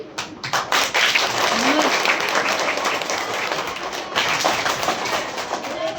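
Children in a rural primary school classroom clap in a ragged burst of hands that continues unevenly for several seconds, mixed with thumps and background voices.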